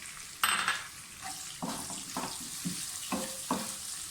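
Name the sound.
onions added to pan and frying for lobia masala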